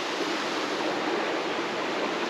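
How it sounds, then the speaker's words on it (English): A waterfall in a forest pours in a steady, dense roar, loud and unbroken, with no voices. "And look at the waterfall."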